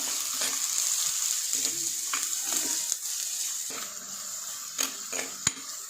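Chopped onion, garlic and ginger sizzle in hot oil in a pan, a constant bright frying hiss up close, with spatula scrapes and a few sharper clinks against the pan toward the end.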